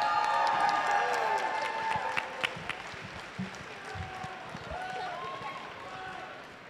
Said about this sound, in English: And here she comes, a big round of applause.